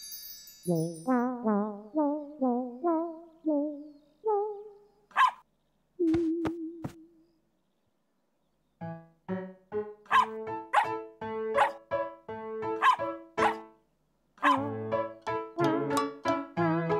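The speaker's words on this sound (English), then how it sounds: "It's little dog Fido." A small cartoon dog yips and barks in a children's animated show, runs of high, bouncy barks and a whimper, then a pause before a busier stretch of rapid, loud barking.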